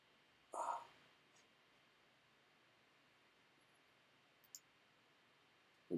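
A computer mouse clicking at a desk, one louder click near the start and a couple of faint taps later, very quiet and close, with no speech.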